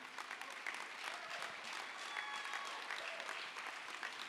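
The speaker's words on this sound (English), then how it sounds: "Trey Morris deserves a great big round of applause" Faint, steady audience applause at a finals event, a dense continuous patter of many hands clapping, distant and low in level, with a few brief tonal touches mixed in.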